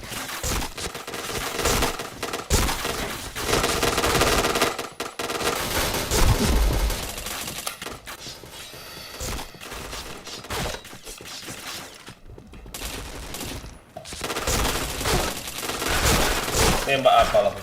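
Gunfire from the Point Blank video game crackles in bursts of rapid automatic shots and single cracks, moderately loud and irregular, with short pauses between volleys and faint game noise beneath.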